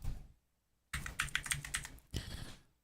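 Quick bursts of clacking on a computer keyboard, close and crisp, come in two separated runs with a silent pause before them and fade at the end.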